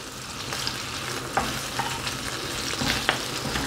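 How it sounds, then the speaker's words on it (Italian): Prawns and artichokes frying in a pan, a close, steady sizzle with occasional sharp scrapes and clicks as a spoon turns them. "li rimestiamo un pochino,"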